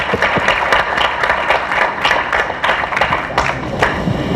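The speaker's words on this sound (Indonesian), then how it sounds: "tepuk tangan untuk beliau" Lively audience applause at a school graduation ceremony, close and loud, with distinct individual hand claps standing out from the crowd throughout.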